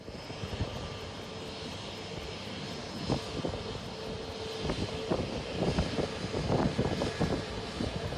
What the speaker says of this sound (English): We're here in Shannon Airport to check out the all-new Aer Lingus plane that has just landed in on the runway.